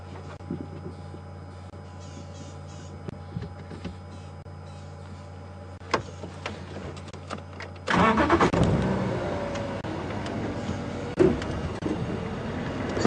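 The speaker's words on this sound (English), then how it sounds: "what happens if I start the car" Safari vehicle engine starting at Djuma Game Reserve: a quiet idle with faint clicks and birdsong, then the engine catches with a sudden broadband rumble that settles into a steady running drone.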